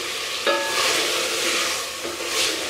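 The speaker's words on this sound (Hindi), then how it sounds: "मसालों को हमने अच्छे तरीके से भूनना है।" Spices roast in ghee for aloo gosht, a soft sizzle with scraping stirs, including a sharp scrape near the start and another about two seconds in.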